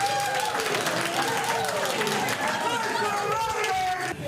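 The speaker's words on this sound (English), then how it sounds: "As Rider fans gathered at the Italian club on Sunday night to cheer on their team in the Grey Cup, there was lots of celebrating." Saskatchewan Roughriders fans packed into an Italian club on Grey Cup night, a dense crowd roar of cheering, chatter and clapping that holds steady throughout, with voices rising over the continuous din.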